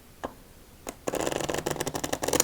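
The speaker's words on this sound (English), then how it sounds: "Victory shuffle time." Playing cards from a five-deck solitaire setup are shuffled close to the microphone: two soft taps, then a dense rapid riffle of crisp flutters and clicks lasting over a second, with no talking.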